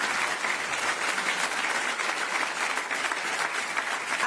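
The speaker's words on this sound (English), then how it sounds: "I think you can all give a round of applause because that is really exciting." Steady applause from a large audience at the opening session of a water resilience forum, dense and even throughout with no voices over it.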